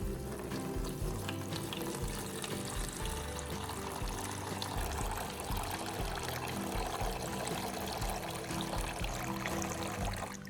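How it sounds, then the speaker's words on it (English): Clean water is poured over a battery to rinse it, a steady splashing wash with no break and no voices. "For the third step, I'll rinse with clean water to remove any leftover coca"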